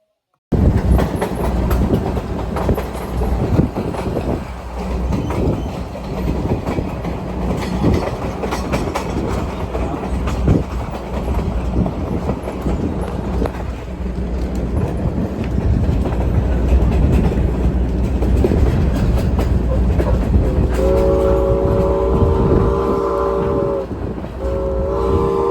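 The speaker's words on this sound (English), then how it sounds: "Soon enough, it was time for the train to depart." A Strasburg Rail Road steam train pulls away, a continuous rumble with rail clatter building steadily, then a loud multi-tone whistle blows near the end, close and sustained.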